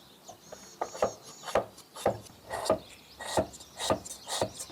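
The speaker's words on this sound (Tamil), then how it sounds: "கஜன் வந்து அங்கால கருப்பட்டியை வெட்டட்டும்" Palm jaggery is cut into small pieces for watalappam, giving a close series of sharp, evenly spaced chopping and scraping strokes, about two per second, with no one talking.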